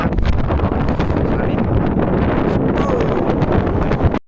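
Steady, loud sea wind buffeting the microphone at dawn while fishing in Bahrain, a continuous broadband roar with gusty swells for about four seconds before cutting off.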